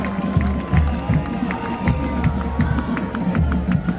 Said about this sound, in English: Gives the homecoming fans something to cheer about